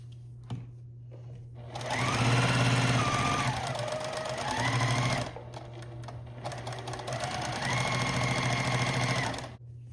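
A sewing machine stitches a quarter-inch seam on a beginner baby quilt, running in two long steady bursts of fast mechanical whirring over a low motor hum, with a brief pause between them.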